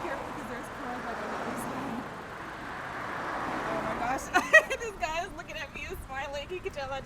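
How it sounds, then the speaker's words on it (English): Cars driving past on a road beside a newly bought car, a low broadband traffic rush swelling by at moderate distance, then continuing more quietly under a voice talking nearby. "there's cars coming past me"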